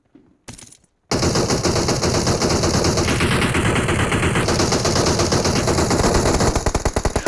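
Rapid automatic gunfire in PUBG, a shooter video game: a couple of brief shots, then a long, loud, continuous burst of rattling machine-gun fire that fills the clip, with no talking.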